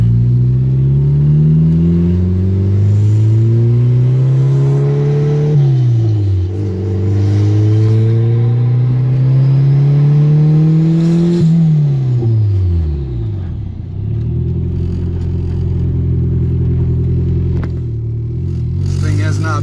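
A worn-out turbocharged Integra revs up through the gears while driving, pitch climbing and dropping in repeated sweeps, loud and close, with a deep rumble as it slows near the end.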